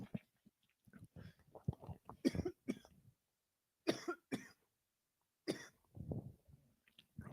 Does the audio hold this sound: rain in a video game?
no